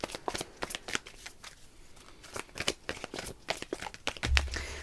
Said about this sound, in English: when I was just shuffling the cards then